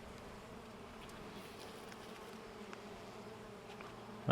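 Bees drone steadily inside an open hive with fresh comb, nectar and pollen, a soft, even buzzing hum close by, ending with a brief louder bump at the very end, and no one speaking.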